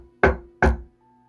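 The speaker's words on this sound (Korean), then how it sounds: "그런데 이런 대화를 나누고 있을 때 노크 소리가 들려." Two firm, close knocks on a door, evenly spaced about half a second apart, used as a sound effect in a narrated retelling of a mystery novel set at a mountain lodge; no voice over them.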